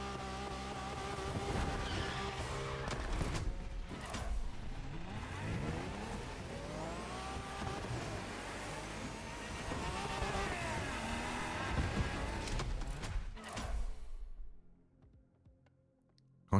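A customised Acura NSX in a racing video game revs and accelerates on dirt, its engine pitch climbing and falling repeatedly, loud and continuous before cutting out near the end.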